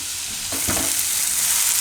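Onions with a pinch of salt fry in a pan with a continuous, loud, close sizzle that swells slightly as a brief stir passes through.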